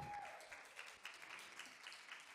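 Audience clapping at a Black maternal wellness talk, a brief, faint patter of applause heard from a distance.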